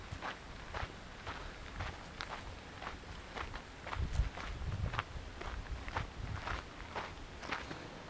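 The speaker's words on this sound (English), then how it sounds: "all we're hearing is the sound of our feet upon the gravel path and the peaceful mountain stream" Steady footsteps crunch on a gravel trail toward Desoto Falls in Georgia's Chattahoochee National Forest, with a constant rushing water sound from a mountain stream underneath.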